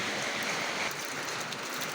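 Heavy rain pours steadily around an old house in Laos, a dense continuous hiss of water falling and running, close and unbroken with no voices.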